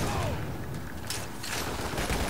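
Enemy gunfire in Lost Planet Extreme Condition, a dense crackling fusillade of rapid shots and mechanical clatter that continues loudly throughout with little pause.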